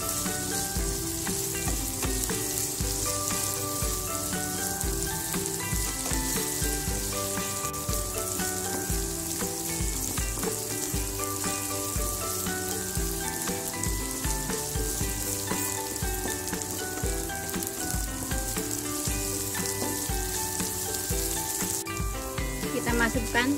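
Spices stir-fried in a pan for a Banjar-style yellow pindang, giving a steady, even sizzle that runs the whole time beneath louder background music.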